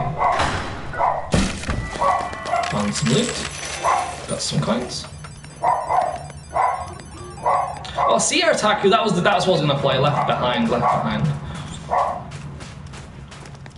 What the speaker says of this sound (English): I've got 2 dogs, and while I'm staying here in New Zealand, and they're barking like crazy